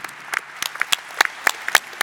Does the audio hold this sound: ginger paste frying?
no